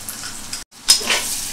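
Onion and garlic frying in oil, a close sizzling hiss cut by a brief silent gap, then returning with a sharp clink and louder sizzle.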